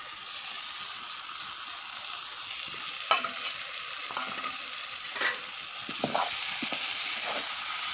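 Pork and bamboo shoots are stirred in a pan over a steady frying sizzle, with occasional scraping and clinking of the utensil against the pan.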